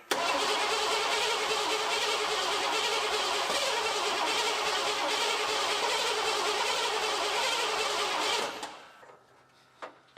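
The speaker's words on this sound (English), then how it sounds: "Let's crank it over, see what happens." A fuel-injected 1986 Ford F150 engine cranks over loudly and close for about eight seconds without catching, a steady whirring drone that cuts off abruptly into near silence.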